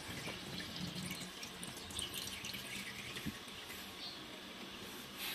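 A toilet tank refills with water after its fill valve is adjusted, a soft steady hiss and trickle with faint dripping, quiet and close with no talking.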